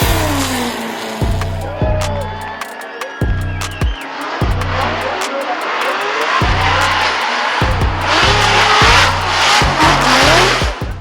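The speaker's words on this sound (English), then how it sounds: "I drive the Falcon Tire C6 Corvette right here." Supercharged C6 Corvette Formula Drift car with a Link ECU, its engine roaring loud and close in repeated revving bursts and surges, with tire squeal rising over the sustained engine noise.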